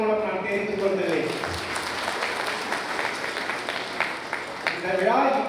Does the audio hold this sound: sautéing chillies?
no